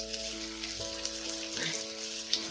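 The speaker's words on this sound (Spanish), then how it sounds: "me quedo aquí sofriendo esto un par de minutitos" Onion sizzles and fries in a pan for a cuttlefish and potato stew, a soft continuous crackle with faint stirring, quiet and close, under a steady background hum.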